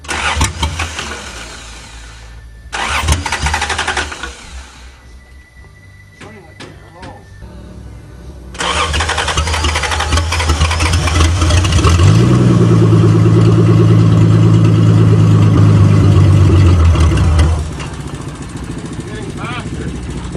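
A 1982 Toyota Cressida running on bad gas, cranking and catching, then settling into a loud, steady idle that swells briefly before easing off, with people talking nearby.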